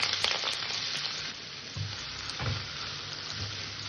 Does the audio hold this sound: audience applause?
no